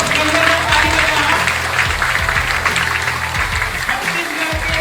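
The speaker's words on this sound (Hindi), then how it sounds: "जोरदार सब कमरे में ताली बजाना" Applause from a classroom audience at a Chhattisgarh culture special class, steady dense clapping filling the room with crowd murmur and faint voices underneath.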